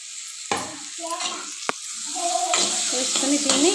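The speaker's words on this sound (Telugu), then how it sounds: "కట్ చేసుకుని టమాటా ముక్కలు ఇప్పుడు ఇందులో వేసుకోవాలి" Tomato pieces drop into a hot frying pan of brinjal and ridge gourd, giving a sharp sizzle and then steady stirring and scraping, while someone talks briefly over the cooking.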